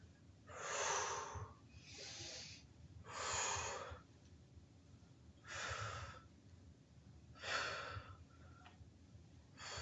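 During a core exercise, a person takes about five forceful, rhythmic exhales, each a close breathy rush separated by short pauses, with no talking.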